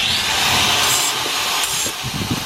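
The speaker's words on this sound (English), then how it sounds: "We gotta grind that." An abrasive grinder works over a weld on a boat part, a steady hissing, rasping whine that holds loud and close before easing off toward the end.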